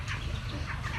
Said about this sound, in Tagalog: Ang liliit pa ng mga itik.